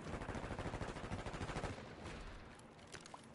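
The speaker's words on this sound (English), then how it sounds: "Barbie sneaking up behind me, shooting me with a damn sniper rifle" Rapid gunfire from the Black Ops 6 video game, a sniper rifle among the shots, cracking in a dense regular burst for the first second and a half, then trailing into quieter scattered game noise.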